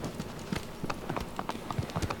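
A horse gallops in the video game Shadow of the Colossus, its hooves clip-clopping in a quick, steady rhythm, fairly faint and close.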